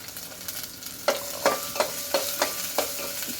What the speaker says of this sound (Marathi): कांद्याला थोडंसं पटकन ब्राऊन होण्यासाठी मी थोडंसं तेल टाकते, म्हणजे तो पटकन ब्राऊन होईल